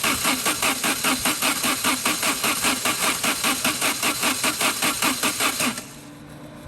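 A Saab engine with zero oil pressure cranks over on a remote starter, a steady rapid starter-motor chug of evenly spaced pulses for several seconds that stops abruptly, leaving near quiet.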